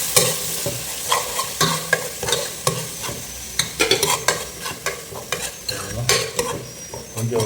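Chili powder and spices frying in oil for a village-style fish curry, a steady crackling sizzle with repeated scraping stir strokes, close and continuous throughout.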